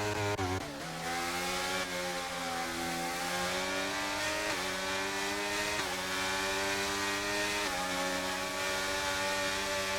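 Racing car engines from a sim racing game on a track in Austria, a high, continuous whine that rises and drops with gear shifts, layered as several cars run together, loud and steady with no break.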